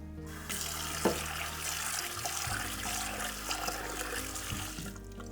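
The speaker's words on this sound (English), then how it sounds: "I've already rinsed it and I'm running it through here to make sure I catch all the millet as I'm pouring it out." Rinse water for millet runs and splashes steadily as it is poured out through a strainer at a sink, a close, continuous gushing trickle with no talk.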